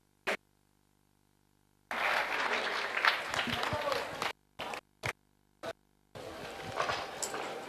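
Audience applause breaks out to welcome a guest at a staged performance, a long dense burst of clapping followed by a few short isolated bursts and then another sustained round.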